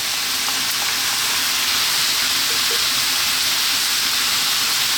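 Onion dropped into a hot pan for a lamb curry over high heat, giving a steady, loud broadband sizzle that holds evenly throughout with no talking.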